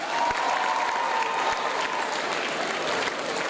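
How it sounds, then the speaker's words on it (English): An audience at a consultation day forum gives a steady round of applause, dense continuous clapping that holds loud and even from start to finish. "Let us give a round of applause again."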